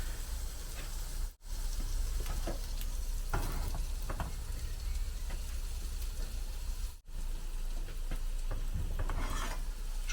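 Chopped onion sautéing in a pan beside a wood-fired oven, a continuous gentle sizzle with scraping stir strokes scattered throughout and two brief dropouts, close and steady with no talking.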